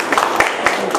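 A lone audience member at a live Telugu song performance gives a few sharp claps, heard briefly under a speaking voice.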